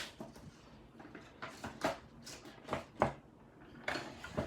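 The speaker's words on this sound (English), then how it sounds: "colored pencils almost fell down" Colored pencils nearly falling make light wooden clattering and tapping, a few scattered knocks and rattles close by, fairly quiet, with no voices.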